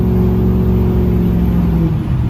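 Close, loud revving of a 6.0 Powerstroke diesel through an axle dump exhaust with a 10-inch tip and muffler, a steady deep rumble held for a couple of seconds.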